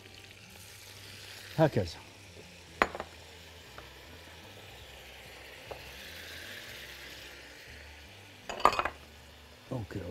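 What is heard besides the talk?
meat flipped and sizzling in frying pan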